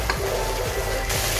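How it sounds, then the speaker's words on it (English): Chicken tangdi kebab pieces frying in a pan with a constant close sizzle and a couple of soft scraping stirs, brief and with no one speaking. "Fry it until it turns slightly golden brown."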